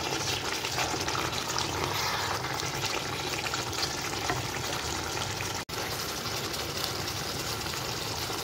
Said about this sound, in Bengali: মাটনটা দিয়ে আমি এবারে ভালো করে কষে নেবো